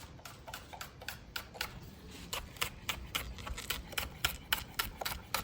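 A knife chops spring onion on a cutting board in a series of crisp, evenly spaced taps that grow slightly louder and quicker toward the end, close up with no talking.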